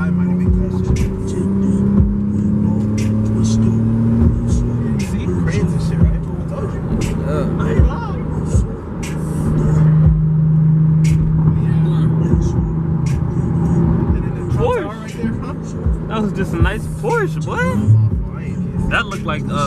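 A Porsche passes along a Chicago city street, its engine rising and falling as it moves by amid steady traffic noise while people talk throughout.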